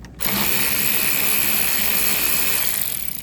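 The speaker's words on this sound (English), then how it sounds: "Using an 8mm, gonna go ahead and undo this first worm clamp here." A power tool drives an 8mm socket to loosen a worm-drive hose clamp on the intake of a 2015 GMC Yukon during an alternator replacement, giving a loud, steady whirring drone for about three seconds with no talking.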